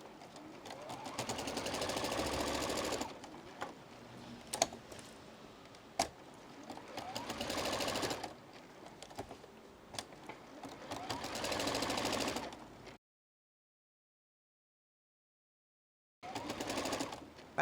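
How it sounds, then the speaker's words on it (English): A sewing machine runs in long steady whirring bursts while stitching a flying geese quilt block, with brief stops and clicks between seams and a silent gap before the stitching resumes. "Just do a little back stitch."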